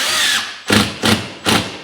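Cordless Milwaukee drywall screw gun driving screws, three short bursts at a steady rhythm, close and loud, with a brief whine before the first.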